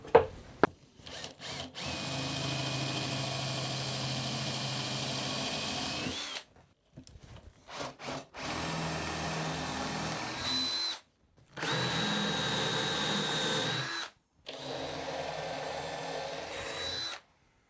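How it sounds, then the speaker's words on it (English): A 15mm Forstner bit bores holes in a wooden knife rack, sounding as several loud, close drilling bursts of a few seconds each, separated by short silent pauses. "I have a 15mm Forstner bit to drill these out with."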